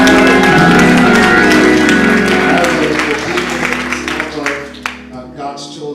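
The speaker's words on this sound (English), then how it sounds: "Would you please just give a round of applause to my lovely First Lady." A church congregation applauds the pastor's wife at a funeral service, a dense wash of clapping that carries loudly for several seconds and then thins out and fades.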